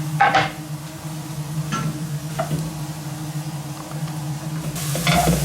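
Chopped leeks softening in a pan as the base for a stew, with a low steady sizzle under a constant kitchen hum and a few sharp clinks of a utensil stirring against the pan near the start and end.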